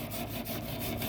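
Back-and-forth scrubbing on a rusted, greased grill grate, a brief close rasping with quick regular strokes.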